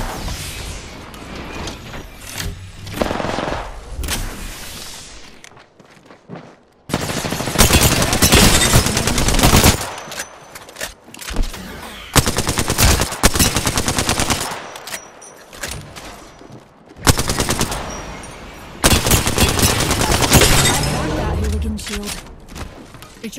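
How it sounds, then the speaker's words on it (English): Gunfire in the video game Apex Legends: dense bursts of automatic fire and rapid shots come in several loud stretches with brief lulls between, close and harsh, with a player's voice talking at times. "Being shot at."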